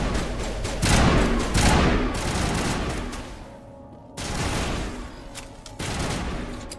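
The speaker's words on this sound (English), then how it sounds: "Okay, let's try the shotgun." Shotgun fire in Mass Effect Legendary Edition: several loud, heavy blasts in quick bursts with short gaps between them, close and punchy, with no talk.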